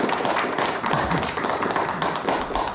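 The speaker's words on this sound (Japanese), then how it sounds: "良気が良かったと思う人拍手。" An audience at a dance battle breaks into applause, a dense, sustained burst of many hands clapping close and loud, continuing evenly throughout.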